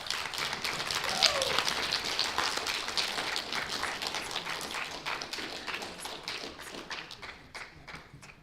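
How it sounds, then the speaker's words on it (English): An audience at a spelling bee claps steadily. The applause is strongest at first, then thins into scattered claps as it fades out. "Give everybody a round of applause."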